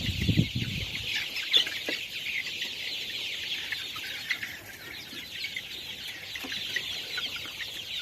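Young chickens cluck and peep softly and continuously close by during a morning routine, a steady, moderately quiet chatter of fowl with a brief low thump near the start.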